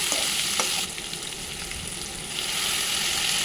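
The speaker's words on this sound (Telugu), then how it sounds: "అండ్ దెన్ ఒక టమాటోని సన్నగా ముక్కలు తరిగి వేసుకోండి. ఇవన్నీ కలిపి మూత పెట్టి కాసేపు మగ్గించుకోండి." Chopped tomatoes cook in a pan for Karnataka-style vangi bath (brinjal rice), giving a steady, close hiss of frying with faint stirring, and no voices.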